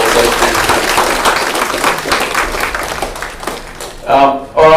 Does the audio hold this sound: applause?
yes